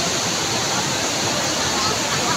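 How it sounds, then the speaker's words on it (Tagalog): Loud, unbroken roar of rushing water at Wawa Dam in Montalban, Rodriguez, Rizal, heard up close as a dense, steady wash of falling water that fills everything. "marinig nyo yung ano ng tubig, guys"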